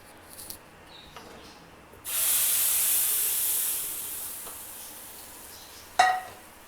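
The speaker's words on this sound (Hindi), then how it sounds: "ये देखें अदरक गोल्डन हो चुका है, अब इसको दाल में डाल देंगे।" Fried golden ginger tempering poured into dal bursts into a loud, sharp sizzling hiss that slowly fades over several seconds. A metal clink follows near the end.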